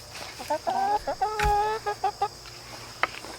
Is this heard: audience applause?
no